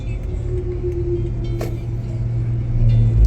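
A 2011 Toyota Alphard pulls away with a low, steady engine rumble heard from inside the cabin. The rumble grows slightly louder toward the end.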